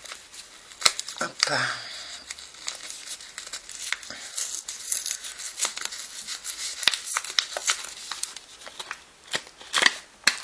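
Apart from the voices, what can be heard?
opening a small Hello Kitty bag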